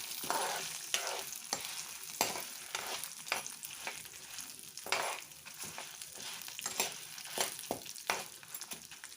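Dried red chillies frying in hot oil in a pan, a soft hiss and crackle of sizzling broken by repeated scraping and clattering bursts as they are stirred, close but fairly quiet.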